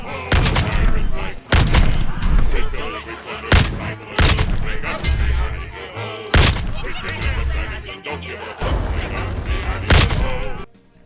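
Blunderbuss blasts in a Roblox first-person shooter: a string of loud, booming shotgun-like reports at irregular intervals, with thuds and other game noise crowding between them.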